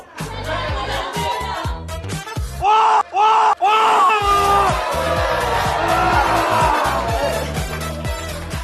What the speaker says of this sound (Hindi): लैला लैला चिल्ला रहे, दर्द हो रहा है मुझको